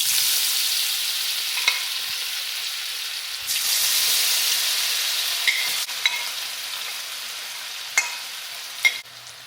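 Potato pieces frying in oil with salt and chili powder, a continuous close hiss of sizzling with occasional sharp clicks and scrapes of a spoon against the pan.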